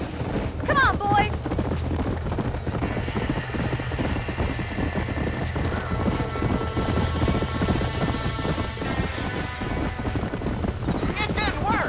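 Horses neighing and stamping in a burning barn in Red Dead Redemption, steady hoof clatter and rumble with sharp whinnies at the start and end, under shouting voices.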